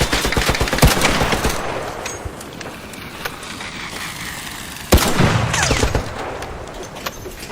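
Automatic gunfire cracks out in the Arc Raiders shooter game as players shoot down an enemy, with a rapid burst of loud shots, a pause, then a second sharp volley close by.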